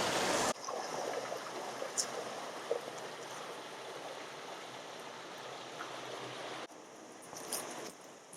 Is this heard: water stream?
yes